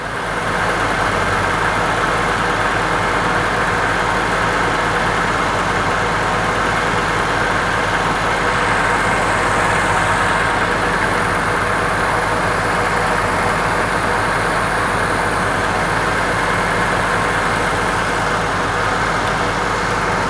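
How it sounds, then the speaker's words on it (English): A car engine idles with the air-conditioning compressor engaged and both cooling fans running after an R-12 to R-134a retrofit, producing a loud, steady drone and fan whoosh that continues unchanged from start to finish. "The compressor's kicking on, both fans are working."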